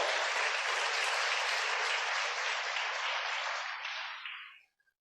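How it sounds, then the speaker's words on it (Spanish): A church congregation applauding during a Spanish-language sermon, a dense, loud burst of clapping that holds steady for about four seconds and then fades quickly, with no talk over it. "¿Cuántos le dan un fuerte aplauso al Señor Jesucristo?"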